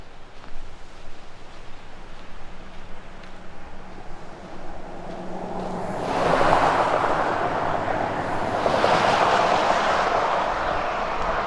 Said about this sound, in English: You can hear the water spilling through the dam down there.